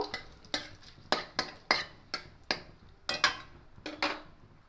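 A spoon stirs vegetarian mung dal in a pot in about ten sharp, evenly spaced scrapes and clinks, close and fairly quiet, with faint sizzling between strokes.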